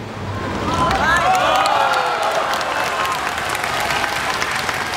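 Steady, loud applause from a large crowd fills the whole stretch, a dense wash of clapping with faint voices mixed in.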